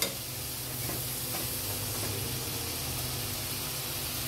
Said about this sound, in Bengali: হলুদ গুঁড়ো এগুলো দিয়ে আমি মশলাটাকে ভালো করে কষিয়ে নেব।